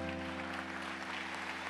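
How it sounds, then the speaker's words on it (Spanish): Applause from the congregation at an evening church meeting, a dense, continuous wash of many hands clapping at moderate volume over a steady background hum, brief and unbroken. "Parate, Agostina, vamos a darle un aplauso, ¿sí?"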